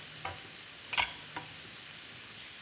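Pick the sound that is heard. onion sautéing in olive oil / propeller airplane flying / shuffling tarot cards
onion sautéing in olive oil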